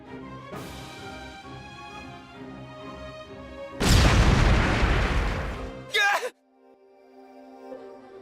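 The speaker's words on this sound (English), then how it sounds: "From here, I'll use these fire magic crystals." Fire magic crystal explosion in the Re:Zero video game, a loud roaring blast that swells over a droning musical tone, a short sharp burst, then a sudden drop to quiet with a low lingering hum.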